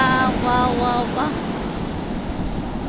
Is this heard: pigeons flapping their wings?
no